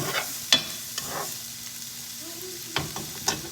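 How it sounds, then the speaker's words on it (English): Food simmering in butter in a pan, a soft steady sizzle close by with a few sharp utensil knocks and stirring scrapes. "we're just gonna let that kind of simmer in there with that butter"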